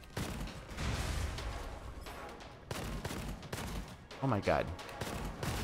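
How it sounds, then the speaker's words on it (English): A fully automatic shotgun in the game Gunfire Reborn fires in rapid, choppy bursts with brief gaps, fairly loud, while a player exclaims over the shooting. "This fully auto shotgun thing is funny and neat"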